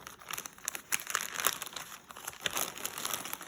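A plastic bag wrapped around napkins crinkles and rustles continuously as it is opened by hand, close and fairly quiet, with no talking.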